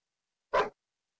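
A single short dog bark in the Tomb Raider Level Editor game, one quick bright yelp standing alone in silence.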